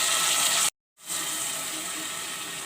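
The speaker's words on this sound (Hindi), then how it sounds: "थोड़ा सा पानी डाल देंगे।" A little water pours into a hot pan of frying potatoes and spices with a loud, rushing hiss that cuts out briefly, then resumes as a steady sizzle.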